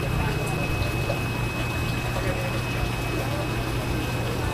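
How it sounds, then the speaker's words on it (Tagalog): Water rushes steadily and forcefully through an aquarium tank, like a strong pump churning, with a constant hiss that never lets up and voices murmuring faintly underneath. "Malakas ang tubig niya, oh."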